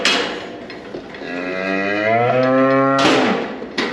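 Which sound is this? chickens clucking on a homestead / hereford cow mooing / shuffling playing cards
hereford cow mooing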